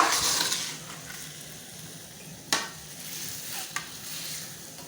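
Stir-frying in a pan, Nigerian-style spaghetti with vegetables, gives a steady sizzle and scraping stir sounds, with two sharp clinks of utensil against pan partway through.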